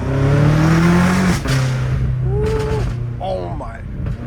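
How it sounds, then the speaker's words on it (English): Straight-piped BMW M5 Competition, a 650 hp car with a titanium exhaust, revs in sharp rising and falling bursts over a steady engine drone, heard close with the windows down while someone talks excitedly. "it sounds so good right now. Dude, this titanium exhaust changed everything."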